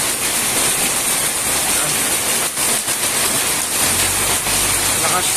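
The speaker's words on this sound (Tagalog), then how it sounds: "Malakas yung buhos ng ulan." Heavy rain from Typhoon Opong in the Philippines pouring down in a dense, constant hiss, loud and close, with no pauses.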